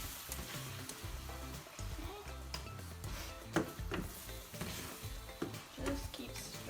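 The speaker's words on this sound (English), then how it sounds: "And you're going to keep stirring it until the eggs are scrambled." Eggs and meat are stirred and scrambled in a frying pan that tends to stick, with a soft sizzle. Repeated scraping strokes of the utensil sound close but quiet.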